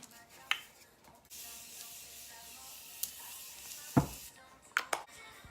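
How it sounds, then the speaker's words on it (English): Morphe Continuous Setting Spray misted onto a made-up face in short hissing bursts, one long spray running more than two seconds, then several quick close puffs, fairly quiet with no talk. "set everything with the Morphe Continuous Setting Spray"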